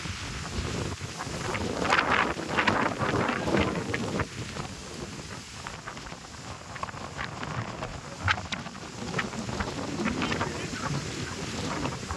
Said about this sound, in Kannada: ಗಾಳಿ ಬೇರೆ ಫುಲ್ಲು ಸ್ಪೀಡ್ ಇದೆ